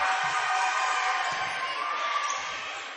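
A steady wash of indistinct crowd noise fills a volleyball gym, a broad, even roar that holds at a moderate level throughout with a few faint thumps beneath it.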